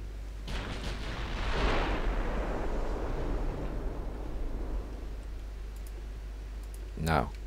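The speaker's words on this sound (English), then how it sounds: "Two-inch guns are opening up." Two-inch naval guns fire in the naval warfare game Ultimate Admiral Dreadnoughts, giving a long rumbling barrage of shots over steady low engine noise, followed by a sharp report near the end.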